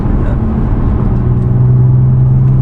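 A modified Audi S4 engine drones steadily while driving, a loud, continuous low hum with a rising pitch toward the end as it pulls under load, cabin noise throughout.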